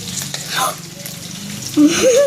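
Food frying in hot oil, a soft steady sizzle running through a short stretch, with a brief voice and some movement sounds over it.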